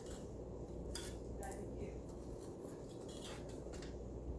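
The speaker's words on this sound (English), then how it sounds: "We're going to just get my spatula under there." A spatula scraping and clinking against a greased pan while lifting breaded eggplant slices, with a few soft metallic scrapes over a steady low kitchen hum.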